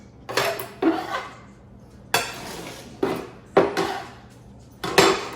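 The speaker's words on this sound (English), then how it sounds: "And you just scoop them into your instant potatoes." A plastic scoop knocks and scrapes against a bowl while cut-up pieces are scooped into instant potatoes for a Thanksgiving dinner, six sharp clattering hits spaced about a second apart over a quiet room, no speech.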